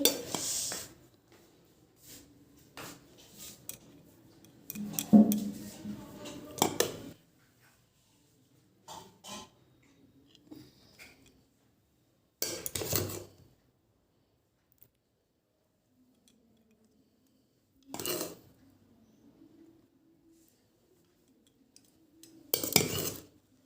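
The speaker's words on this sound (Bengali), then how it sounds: "ভাত বেড়ে নিয়েছি এবার আমার থালায়" Hot steaming rice served onto a metal plate at home with utensils, heard as scattered scraping and clinking bursts separated by quiet gaps, close and moderately loud.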